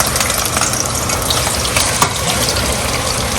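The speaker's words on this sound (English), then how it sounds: "I'm gonna take this salami, I'm gonna put it in that hot oil that is here. I'm gonna fry it" Steady, dense sizzling and crackling of salami frying in hot oil, continuous and close, with a faint scrape of stirring.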